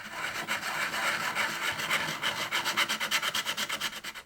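Hand sanding on a primed Rubies toy E11 Stormtrooper blaster makes close, raspy scraping strokes, blurred at first and then settling into a quick, regular back-and-forth rhythm.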